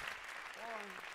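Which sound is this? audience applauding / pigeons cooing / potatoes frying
audience applauding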